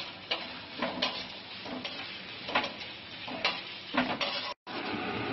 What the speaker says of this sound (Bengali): এরপর আমি পেঁয়াজগুলো দিয়ে দিয়েছি, দিয়ে এটাকে একটু লাল হওয়া পর্যন্ত আমি ভেজে ভাজবো।